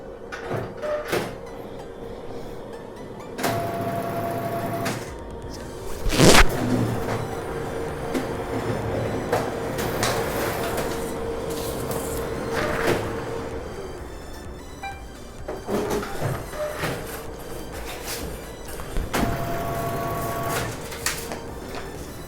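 A printer processes and prints a job with a steady mechanical whir, periodic rolling and sliding sounds, and a sharp clunk partway through, heard close over roughly twenty seconds of continuous running.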